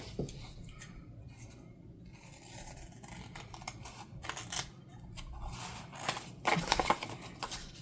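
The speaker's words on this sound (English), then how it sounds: "And we can cut the excess off." Scissors snip away excess paper while trimming a junk journal ephemera piece, giving a run of close, crisp cutting and rustling sounds that grow louder and busier toward the end, with no talking.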